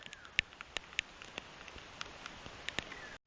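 Rain falling steadily outdoors during a chili pepper harvest, a dense patter with scattered sharper drops striking nearby surfaces, continuous and fairly faint with no talking.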